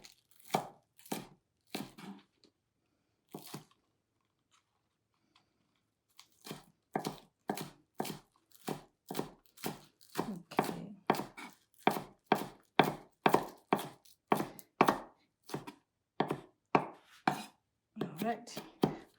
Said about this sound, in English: Then I'm gonna cut the green onion, scallion, really, really thin